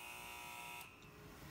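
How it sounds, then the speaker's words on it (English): The low-water cutoff alarm buzzer on a Volcano MF-150D boiler drones steadily and faintly, then cuts off partway through, leaving a quieter background hum. "we will open valve number 16 and wait for the alarm to sound"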